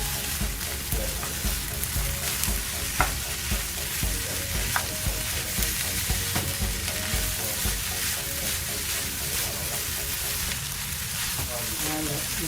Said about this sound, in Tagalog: Hinalo lang siya.